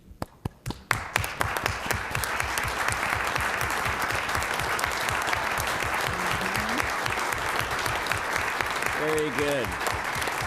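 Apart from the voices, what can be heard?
audience applauding current and past elected officials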